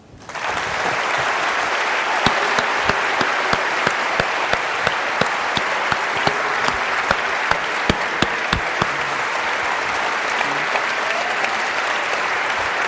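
Sustained audience applause after a debate, a dense even wash of clapping from a large crowd that holds steady throughout with no talk over it.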